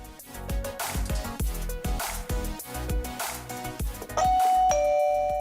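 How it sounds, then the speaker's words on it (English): A Govee wireless doorbell plays a bright electronic chime melody in a series of quick, ringing notes, ending on a sustained tone. "When paired successfully, you will hear the ringtone."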